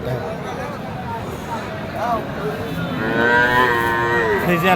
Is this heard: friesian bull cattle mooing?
yes